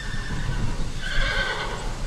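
A horse on a ranch in Kenya lets out a loud whinny over a steady outdoor background, with faint hoof clip-clop beneath, no voices.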